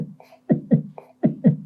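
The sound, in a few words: heartbeat sound effect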